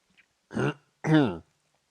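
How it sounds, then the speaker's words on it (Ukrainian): Two short, rasping throat clears, close and distinct, separated by a brief pause. "Містер Трімбл прокашлявся."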